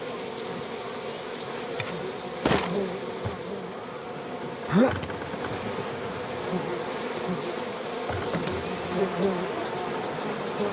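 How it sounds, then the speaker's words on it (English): Bees buzz in a steady drone near a door in the video game We Happy Few, with a couple of sharp louder passes and sounds close by. "Who doesn't keep their bees next to their door?"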